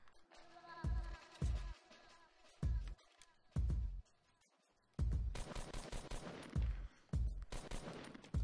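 Video game gunfire in a battle royale match with seven players left, several loud separate shots spaced out then a denser stretch of rapid firing, fairly close with little talking.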